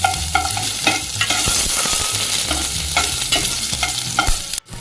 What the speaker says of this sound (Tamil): பச்சை மிளகாய், அது போட்டு நல்லா வதக்கிடுவோம்